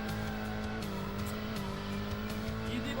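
A racing car braking hard and skidding in a retro racing video game: a steady engine drone with tonal tire squeal and rhythmic bursts, loud and continuous throughout.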